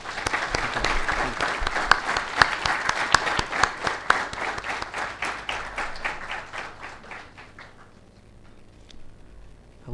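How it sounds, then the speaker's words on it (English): A large university lecture audience claps loudly in dense, crisp bursts that gradually thin out and fade over several seconds. "Can we have a big round of applause"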